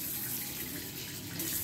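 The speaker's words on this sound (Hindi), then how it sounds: "पानी निकलने लगा है, देखिए" Water gushes steadily from the tap of an instant electric water geyser, a continuous close hiss of running water with no talk.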